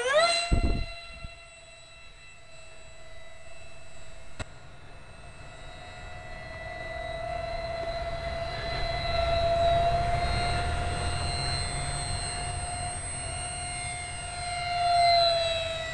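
Small foam RC model of a Concorde flying at full throttle, its electric motor giving a steady high-pitched whine with harmonics that rises and falls slightly as it passes, continuous and fairly close throughout, with no talking.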